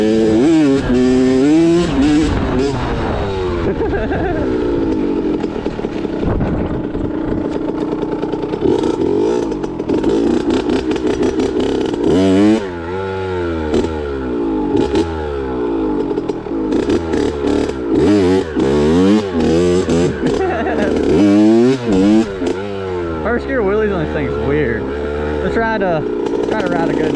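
A Kawasaki KX65 two-stroke pit bike revs hard and repeatedly during wheelies, its high buzzing engine rising and falling in quick surges, loud and close throughout.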